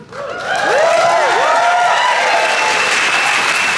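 Loud applause from a cruise ship orientation audience swells in after a brief quiet start, dense and sustained, with a few voices rising over it, whoops or cheers near the middle.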